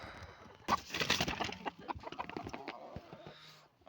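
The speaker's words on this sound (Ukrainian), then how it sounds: "Дві курки і півень." Two hens and a rooster cluck and scratch close by in a farmyard, with irregular sharp clucks and rustling over quiet background and a faint voice.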